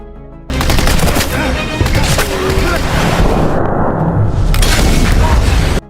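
A massive landmine explosion in a film roars with dense, rumbling debris and crackling that sustains for several seconds before cutting off abruptly.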